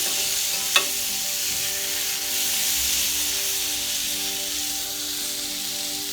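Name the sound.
sautéing ivy gourd with tomato and tamarind in a pan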